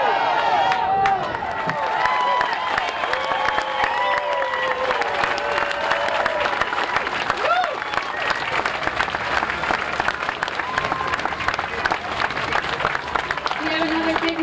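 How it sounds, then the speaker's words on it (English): A crowd at an outdoor anti-coal rally applauds and cheers in a long, continuous roar of clapping with whoops and shouts over the top, loud and close throughout. "We have another big round of applause"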